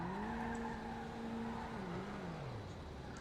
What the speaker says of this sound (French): J'entends une voiture au fond, là, les gars,